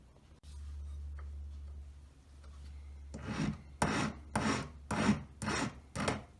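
Metal file sharpening the end of a metal tube for a jeweller's draw plate, about six distinct rasping strokes in an even rhythm, close and fairly quiet, after a low steady hum.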